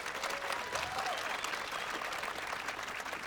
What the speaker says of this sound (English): Big round of applause to all of these VIP guests.